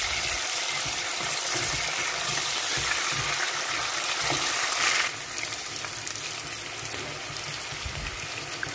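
Onions sauté in a hot pan with oil, a steady close sizzle and crackle that continues throughout, with brief stirring shifts and no talking.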